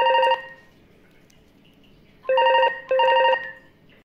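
A home telephone rings with a warbling electronic tone, one burst at the start, a pause, then two more bursts close together, clear and unaccompanied in a quiet room.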